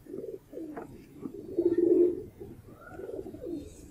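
A Kasuri pigeon cooing close by, a series of low, soft rolling coos that rise and fall in a steady rhythm over a few seconds, with no talk.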